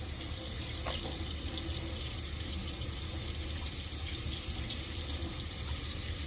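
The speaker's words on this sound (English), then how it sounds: "Next, we will rinse our hands and wrists," Tap water runs steadily into a sink while hands and wrists are rinsed with fingertips pointing down, a constant close splashing hiss with no talk over it.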